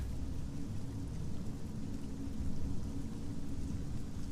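A thundering waterfall in the video game Sunless Skies pours down as a steady, dense roar of rushing water, loud and unbroken throughout with heavy low rumble.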